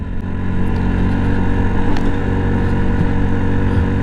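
A small Yamaha MT-125 motorcycle, ridden at about 19,000 miles, gives off a steady close engine drone under heavy wind rush, with no marked revving.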